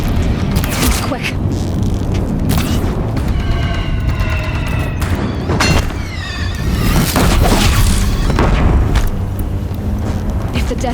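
Deathbringer machines in the video game Horizon Zero Dawn fire explosive shots, filling the scene with a dense, continuous barrage of heavy booms and crashes, loud and close, while voices speak through the chaos.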